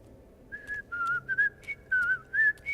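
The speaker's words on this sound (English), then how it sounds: "How the hell is a toad whistling?" A toad in The Wolf Among Us whistles a short, wavering tune of about eight clear tonal notes in quick, uneven phrases, close and distinct over a quiet low hum.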